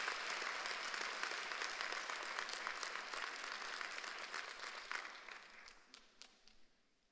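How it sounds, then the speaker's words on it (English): Crowd at a community college graduation ceremony applauding families and friends, a dense sustained clapping that thins and fades toward the end. "let's give all your family and friends here today a big applause"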